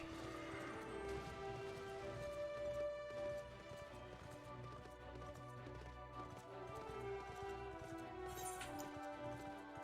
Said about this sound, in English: Ride my horse.